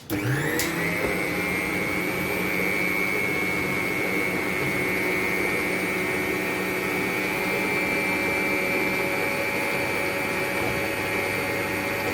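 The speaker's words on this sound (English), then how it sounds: "Scrape so that all our batter is getting mixed nice and even." A stand mixer fitted with a paddle attachment beats cake batter for an apple crumble cake, giving a loud, steady motor whine that starts abruptly and holds unbroken for about twelve seconds, close to the microphone and with no voices.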